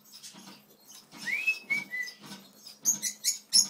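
Cockatiel whistling from inside a Cheetos bag, a soft string of chirps and rising whistled notes ending in brighter high peeps, faint and muffled with crinkly rustling.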